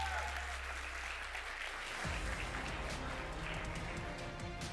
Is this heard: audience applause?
yes